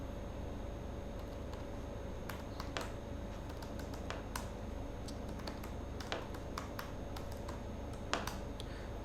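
Keystrokes on a computer keyboard, typed in irregular bursts of crisp, separate clicks over steady room hiss, close to the mic, with no one speaking.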